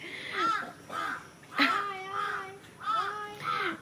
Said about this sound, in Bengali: কাকটা ডেকেই যাচ্ছে, একটা ডেকেই যাচ্ছে